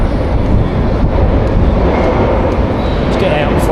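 A London Underground Piccadilly Line train at a platform, a loud steady rumble and hiss of the train and station, with a few faint higher tones near the end.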